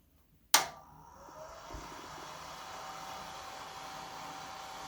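A sharp click, then a battery-powered Big Buddy portable heater's fan whirs up and keeps up a steady, even rush of blowing air close by.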